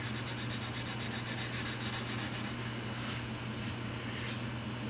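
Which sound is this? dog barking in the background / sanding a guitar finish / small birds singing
sanding a guitar finish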